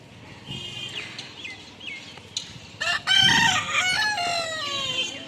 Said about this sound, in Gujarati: જો કુકડા છે આ બાજુ